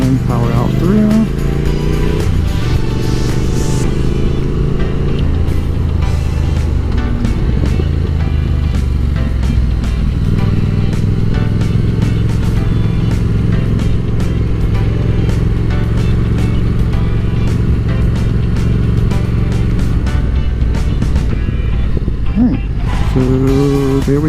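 A car's engine drones loud and close while cornering on a school car-line loop, then pulls harder out of the turn, a sustained low roar with someone talking over it throughout.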